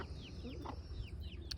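Chickens cluck softly nearby, with a broody hen and her three-week-old chicks making a few quick, faint chirps and low clucks against a quiet background hum.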